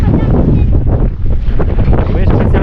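Strong gusting wind on a mountain in Bavaria buffets the microphone with a loud, constant low roar, rough and blustery throughout.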